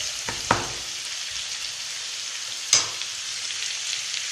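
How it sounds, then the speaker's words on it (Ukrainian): Carrot and onion fry in a pan for pork pilaf, a steady close sizzle with two brief knocks or scrapes of a utensil and no speech. "трішки обжарюємо морковку і цибулю"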